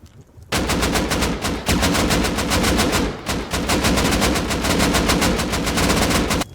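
Automatic gunfire in the survival video game Rust rattles in long, loud bursts of rapid shots, with a brief gap before each new burst and no talking.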